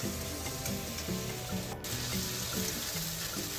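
Coconut milk poured into a hot pan where ginger-garlic and onion paste are cooking in oil, a steady close sizzle and liquid splash running throughout with soft stirring rhythm.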